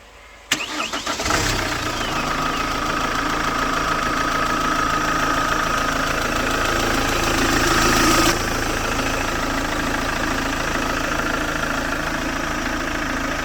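A Chevrolet Captiva diesel engine cranks briefly and catches, then settles into a steady, loud, slightly knocking idle that runs on evenly, heard up close.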